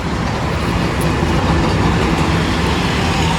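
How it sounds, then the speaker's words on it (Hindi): A car pulls away for a test drive, its engine and road noise forming a loud, steady roar close by that holds for the whole stretch. "तो जा रही है अपनी गाड़ी"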